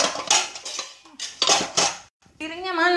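Plates and dishes clatter in a home kitchen, with repeated ceramic knocks and scraping in quick bursts, close by, and someone talks over the handling.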